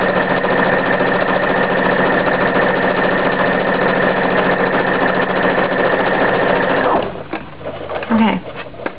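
A sewing machine runs steadily for about seven seconds while stitching a Hong Kong seam about an inch in, its motor humming loudly and evenly close by, then stops, followed by faint handling sounds.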